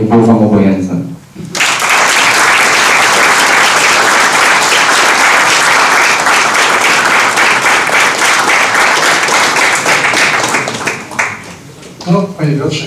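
A large crowd at a political convention in Toruń breaks into loud, sustained applause that swells and holds for about ten seconds before thinning out, with a voice speaking briefly before it starts and again as it fades.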